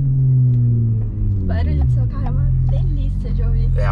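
A Porsche engine rumbles steadily at low pitch while driving through traffic, heard from inside the cabin as people talk over it.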